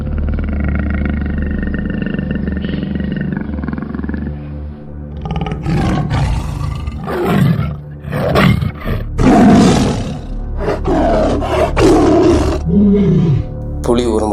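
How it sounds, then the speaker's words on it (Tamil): A tiger roars in a forest, a loud, close run of deep, rough bursts repeating over several seconds, with a low rumbling drone beneath it. "புலி ஒரு முறை சத்தம் கேட்குது"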